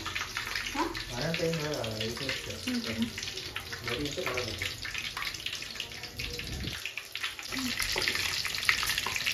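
Raw banana bajji frying in oil over a low-medium flame, a steady broadband sizzle and bubbling that runs throughout, with someone talking over it.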